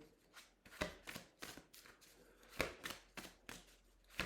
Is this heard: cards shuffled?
yes